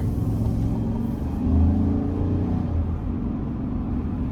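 A 2023 GMC Sierra 1500 pickup's 5.3-liter V8 rumbles deeply as it accelerates through a 10-speed transmission, swelling in pitch and loudness, then easing into a steady drone.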